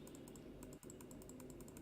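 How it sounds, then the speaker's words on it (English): Steady, rapid computer mouse clicks during a Star Citizen gaming session, light and close over a constant background hum with a brief gap partway through. "I don't know if you can hear my mouse clicking or not"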